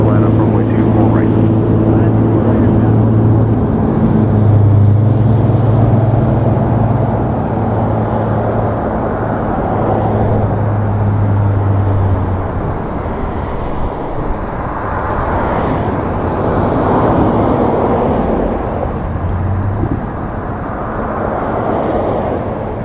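An Air Canada airliner departing Toronto Pearson from runway 24 right, a heavy steady engine roar with low droning tones that swell and fade, heard under continuous talk.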